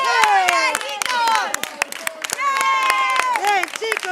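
Parents applauding a children's football team after a youth match: quick sharp claps from a few people close by, mixed with cheerful raised voices and chatter talking over them throughout.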